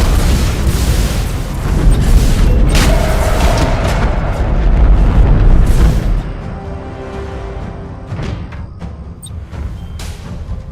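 An enemy defense platform blows apart in the space strategy game Battlefleet Gothic Armada 2, heavy booming explosions rumbling loudly for several seconds before easing into scattered smaller blasts and crackles.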